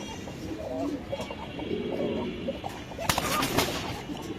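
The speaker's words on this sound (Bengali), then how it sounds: "এটা কি কবুতর? এটা হয়েছে আপনার হোয়াইট বাগদাদি" White Baghdadi pigeons cooing close by in a loft, soft repeated throaty coos with a brief flutter of wings, quiet and under occasional nearby voices.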